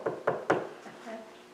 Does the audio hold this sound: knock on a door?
yes